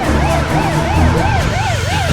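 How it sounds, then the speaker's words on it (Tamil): A loud wailing ambulance siren sweeps up and down in a steady rapid cycle, close by, over a rumbling vehicle engine. "ஆம்புலன்ஸ் வந்திருக்கீங்க."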